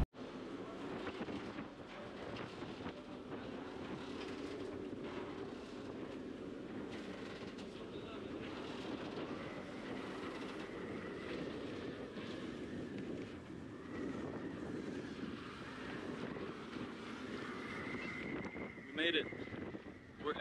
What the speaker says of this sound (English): Hopefully you guys can hear me with all this wind.